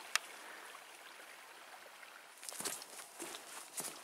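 A faint, steady rush of Jackson Creek on the Superior Hiking Trail runs quietly in the background, joined midway by soft, irregular footsteps on the trail.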